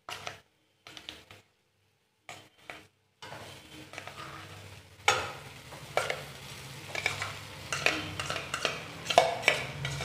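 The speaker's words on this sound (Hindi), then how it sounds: "इसमें डालूंगी मैश किए हुए आलू" Mashed potatoes dropped into a pan for bread-roll filling and stirred, starting with a few soft clumps and pauses, then steady spoon scraping, clinks and light sizzling that grow busier, with no talking.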